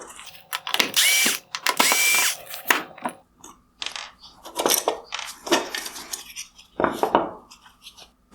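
Power driver backing out T15 Torx screws from the inner lens of a 2021-2022 Tesla Model 3/Y matrix LED projector headlight: close, loud ratcheting bursts of whirring and clicking in short repeated spurts.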